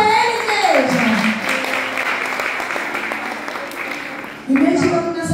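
A church congregation applauds in worship, a dense continuous wash of clapping with a sung or spoken voice over it at the start and again near the end.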